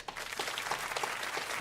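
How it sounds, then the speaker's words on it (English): The audience at a live show with a pro wrestler as guest breaks into brief, dense applause, an even burst of many hands clapping without pause. "Another big round of applause"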